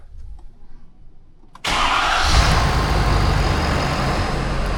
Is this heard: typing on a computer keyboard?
no